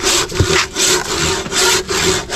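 A handsaw rasps back and forth through bamboo in steady, rhythmic strokes, close and loud, with a brief knock between strokes.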